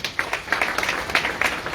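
Brief scattered clapping from a crowd at a political party meeting, moderately loud with an uneven rhythm, lasting under two seconds.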